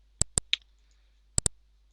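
Two quick pairs of crisp computer mouse double-clicks, close and isolated, separated by a short pause with a faint lighter tick between them.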